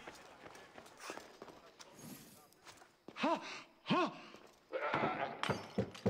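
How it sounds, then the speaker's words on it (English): In the Assassin's Creed Odyssey video game, a goat bleats in two distinct, wavering calls amid footsteps and scattered game sounds, with voices talking around them. "it is a goat!"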